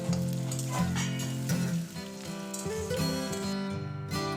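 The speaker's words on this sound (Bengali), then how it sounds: "কড়াই তেল গরম করে কালো জিরে ফোড়ন দিয়ে দিয়েছি তারপরে পরিমাণ মতো পেঁয়াজ দিয়ে দিলাম" Onions fry in hot oil in a kadai after black cumin seeds are added, giving a close, crackling sizzle with stirring, partly covered by tonal background music.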